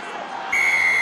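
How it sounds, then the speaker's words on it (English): A referee blows a sharp, sustained whistle at the breakdown during a Wasps versus Toulouse rugby match, cutting loudly through the steady roar of the stadium crowd. "George Clancy is very quick on the whistle at the breakdown"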